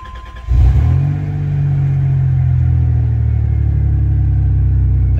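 A 1990 Dodge Grand Caravan engine cold starts in cold weather with a brief crank, catches with a loud surge, then settles into a steady, rumbling fast idle heard close up.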